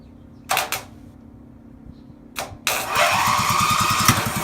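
An old lawn mower, idle for more than ten years and fitted with a paint can lid as a makeshift cap, gets two sharp pull-cord tugs. On the second pull it catches and settles into a close, steady, chugging run.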